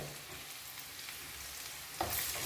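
Ingredients for a shrimp, fig and potato curry fry in a pan with a steady close sizzle, swelling into a brighter hiss near the end.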